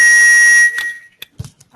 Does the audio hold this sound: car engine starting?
no